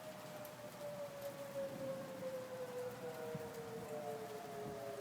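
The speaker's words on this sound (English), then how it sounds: "Hope you guys heard the tornado sirens." Tornado sirens wail in the distance during a thunderstorm, one long steady tone slowly falling in pitch and a second joining later, over a constant hiss of rain.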